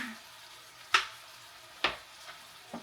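Shrimp for Panda Express-style firecracker shrimp frying in hot oil, a low steady sizzle broken by three or four sharp spitting pops spaced about a second apart, close and fairly quiet.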